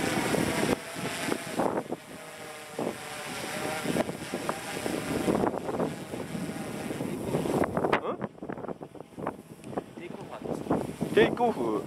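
Wind buffets the microphone outdoors during a DJI Inspire 1 drone test flight in Japan, a steady loud rushing roar with gusty swells; voices talk over it throughout.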